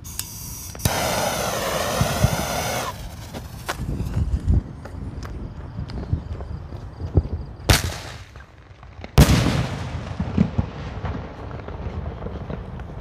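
Power Magnum salute shell fireworks explode outdoors as a few sharp, loud bangs spread over several seconds, set against steady rustling background noise, with no talking.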